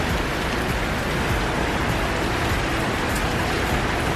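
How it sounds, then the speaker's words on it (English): Heavy tropical downpour on a Caribbean beach in Costa Rica, a loud, dense and unbroken hiss of rain pounding surfaces close by, with no voices. "It usually rains very heavily then stops."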